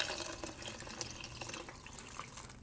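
Water poured into a pot of mushroom and seafood soup, a steady splashing pour running for a few seconds at moderate loudness with no voices.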